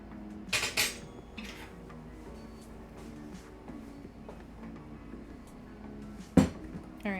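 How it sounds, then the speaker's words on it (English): Eggs whisked in a bowl during a home baking session, a soft scraping clatter of utensil against the bowl with a few sharper clinks, fairly quiet and close. "I need to whisk these."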